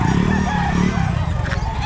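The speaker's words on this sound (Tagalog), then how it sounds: "Medyo parang marami ngayon ng mga manok mga kabosing." Chickens and roosters crowd a busy pet market in Calumpit, with loud, dense clucking and crowing overlapping continuously at close range.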